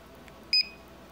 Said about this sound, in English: You heard that little beep to confirm that we've now connected our scanner to our tablet